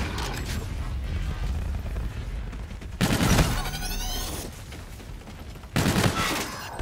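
Gunfire in a shooter video game crackles in two short, dense bursts of rapid shots over a steady low rumble of ambient game sound.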